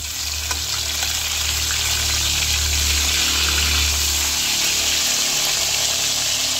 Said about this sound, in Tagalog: akin na pong bibilingin yung po ating pong piniprito